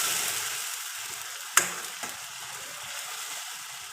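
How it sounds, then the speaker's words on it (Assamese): Ginger-garlic paste fries in a pan for an Assamese pork dish, a soft continuous sizzle broken by one sharp clack of a spoon stirring and a fainter knock after it. "আৰু মই অলপ সময় ভালকৈ ভাজি লৈছোঁ, যিটো আদা নহৰু কেঁচা গোন্ধ যোৱালৈকে।"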